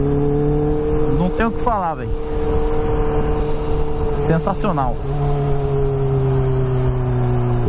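A Kawasaki Ninja H2 motorcycle engine revs in two sharp bursts over a steady idle drone, fairly close, with someone talking excitedly between them.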